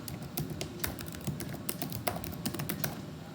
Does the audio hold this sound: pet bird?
no